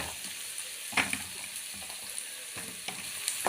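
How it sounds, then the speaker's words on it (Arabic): Green fava beans frying with garlic and pepper in hot oil, a steady close sizzle with occasional sharper crackles and soft stirring scrapes. "الفول اهو حطيته بقى اهو."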